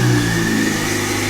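1.8T 20v engine fitted with a Holset HX35 turbo revving hard and loud close up, a sustained droning roar with strong steady tones.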